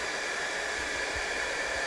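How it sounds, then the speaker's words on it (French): A hair dryer runs steadily at close range, a constant whooshing blow with a faint motor whine and no break in the airflow. "Je peux t'emprunter ton sèche-cheveux?"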